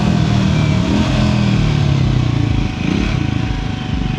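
A Triumph Scrambler 400 XC single-cylinder motorcycle's exhaust while riding: a loud, close, steady mid-range engine drone that dips briefly partway through before picking up again, with no speech.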